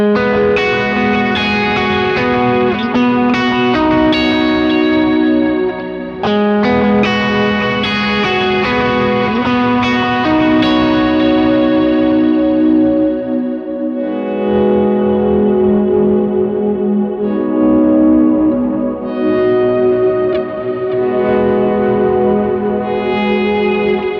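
Electric guitar through washy ambient swell presets on a pedalboard with a Strymon reverb, sustained chords blooming and fading into long echoing trails, loud and continuous, with no talking.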